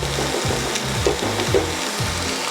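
Vegetables sauté in oil in a pan for a detox autumn soup, giving a steady close sizzle and crackle with a few light stirring knocks throughout.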